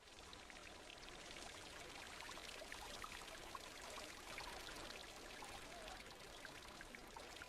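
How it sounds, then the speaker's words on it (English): Water flowing and splashing steadily in a village square in Istanbul, a continuous soft pouring trickle, faint and even throughout with no talking. "The sound of the water is very relaxing to hear."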